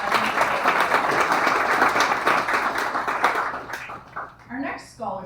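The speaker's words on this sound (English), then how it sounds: "So if we can even clap for in her absence." Audience applause at a farm organization's regional meeting in Lambton County, a dense, steady crowd clapping for about four seconds, then tapering off as a voice begins speaking.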